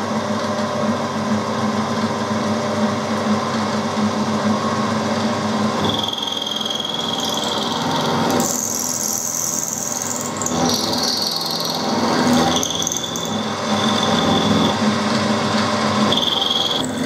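Lathe fitted with a collet chuck running continuously, a steady mechanical hum with high whining tones that shift and squeal as cutting load changes partway through, loud and close.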